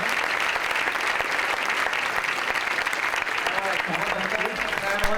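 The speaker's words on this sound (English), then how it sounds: "Everyone give Emma a nice round of applause." Sustained audience applause fills a conference session at a festival, steady dense clapping throughout with a few faint voices and cheers mixed in near the end.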